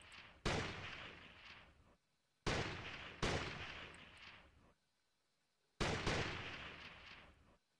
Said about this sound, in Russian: Стреляет.